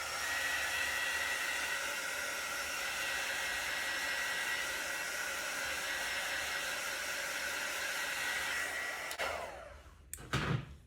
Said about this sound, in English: So I'm just going to hit it with the heat tool now.